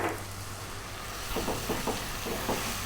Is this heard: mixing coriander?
yes